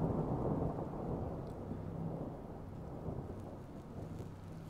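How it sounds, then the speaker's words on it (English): In the horror game Hollowbody, rain pounds on the cracked windshield of a hover car, a dense, steady downpour with deep rolling thunder rumbling close and loud throughout. "rain pounding on the cracked windshield of my hover"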